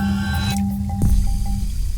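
Water and a betta fish pour from a container into a newly set-up aquarium tank: a short burst of sloshing and squishy splashing, followed by lighter drips and trickles.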